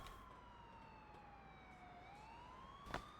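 A police siren from Grand Theft Auto IV wails in steady rising and falling sweeps, fairly faint and distant, with a brief sharp knock near the end.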